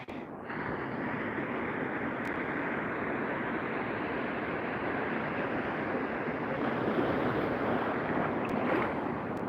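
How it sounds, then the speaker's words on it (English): Ocean waves break over a reef on a chilly day, a steady loud roar of surf that does not let up, with no speech heard. "There's these waves here."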